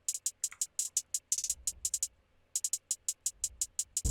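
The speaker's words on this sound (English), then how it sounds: "It's a pretty generic hi-hat." A generic programmed hi-hat pattern in a hyperpop beat ticks along as crisp, bright, rapid hits in a steady two-step rhythm, with brief rolls and gaps over a faint low thump.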